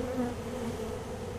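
Honey bees drone in a close, dense, continuous buzz around a large golden queen being settled into a bird house, with no voices over the sound.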